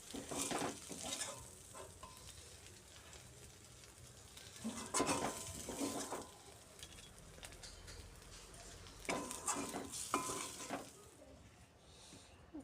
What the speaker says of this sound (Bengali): তো হয়ে গেছে পেঁয়াজগুলি ভাজি